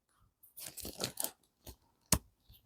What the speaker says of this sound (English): it's very riveting watching me put paper clips on a piece of paper